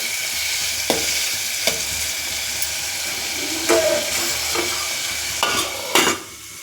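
Tomato pieces with a little salt are stirred in a pan as they cook, the spoon scraping in several distinct strokes over a steady low sizzle, close and alone without speech.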